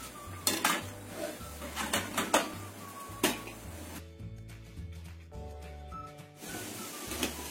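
Ingredients for a snack dish are placed into a metal pot for steaming in a home kitchen. Sharp clinks and clatters of metal and utensils ring out, with a steady low hum from a running appliance underneath.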